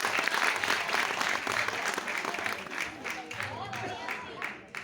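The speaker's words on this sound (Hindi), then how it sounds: "एक बार जोरदार तालियां तो बनती।" An audience at a Hindi poetry recital applauds with dense, continuous clapping that gradually thins and fades out near the end, with a voice faintly audible underneath.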